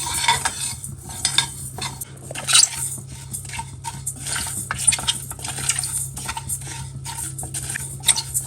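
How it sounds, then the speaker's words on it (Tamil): Rice grains roasting and popping in a pan while being stirred, with a continuous crackle and frequent scraping clinks of a metal spoon against the pan, close up and with no one talking. "அரிசி அப்படியே நல்லா பொரியுது பாருங்க"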